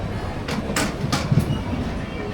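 Near an open coach door on the Howrah–Tatanagar Steel Express, a local train rumbles past alongside in a loud, continuous roar with faint rhythmic rail clatter and muffled voices in the background.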